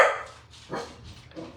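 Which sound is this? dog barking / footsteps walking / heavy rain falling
dog barking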